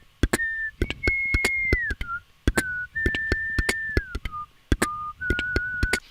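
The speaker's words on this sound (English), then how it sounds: "I'm like whistling the lead melody" Someone whistles a lead melody into a studio microphone in clear sustained phrases, with a steady rhythmic beat of sharp clicks or percussion hits running alongside.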